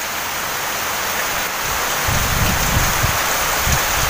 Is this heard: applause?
no